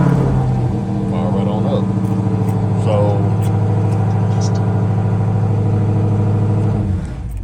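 A Dodge Challenger Redeye is remote-started with its key fob and settles into a deep, steady, close-up idle rumble that runs throughout, while someone talks over it.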